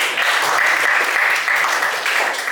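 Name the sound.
classroom children clapping for a student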